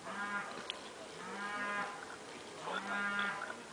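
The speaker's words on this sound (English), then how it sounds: "Cows honking in the background in the farm field over there" Cattle in a farm field beside a woodland campsite low and drawn-out, with three long moos in steady succession, fairly distant and carried over an open outdoor hush, no talking.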